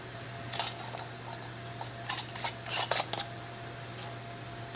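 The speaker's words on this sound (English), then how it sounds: "Now we're just going to put our lids and rings on." Metal canning lids and screw rings clink and clatter in short bursts as they go onto glass jars of canned ground beef. The clinks are fairly faint, with quiet pauses between them.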